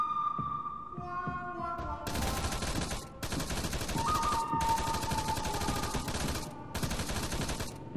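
Arma 3 gunfire, dense bursts of automatic fire in rapid succession over several seconds, with electronic tones and a sonar-like beeping beneath, loud and continuous.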